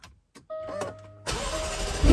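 A Jaguar F-Type V8 R AWD fires up after a few faint clicks and a soft whirr: the starter catches and the V8 bursts into a loud, close, sustained roar.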